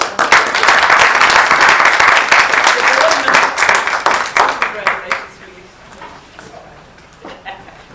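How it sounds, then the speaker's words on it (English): A crowd at a school district awards ceremony claps loudly and steadily, then the applause thins into scattered claps and fades out. "please give a round of applause"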